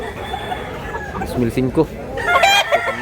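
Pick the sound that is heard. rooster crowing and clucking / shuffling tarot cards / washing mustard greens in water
rooster crowing and clucking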